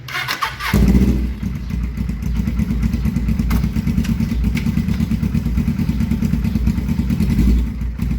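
A Suzuki GS500 motorcycle engine starts with a clattering burst, then settles into a steady, close, throbbing idle.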